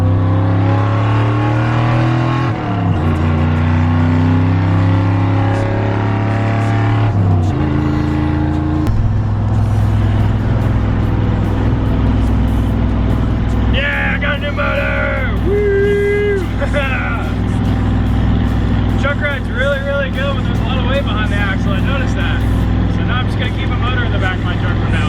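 A truck drives home with a newly bought big block engine loaded aboard. Its loud, steady engine drone runs throughout, with gear changes near the start and some brief tonal sounds layered over it midway.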